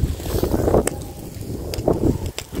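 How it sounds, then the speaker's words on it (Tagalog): Strong, cold wind blows across the microphone at an outdoor cooking fire, rumbling and gusting unevenly with sharp buffeting bursts throughout. "Yung lamig, ang lakas ng hangin."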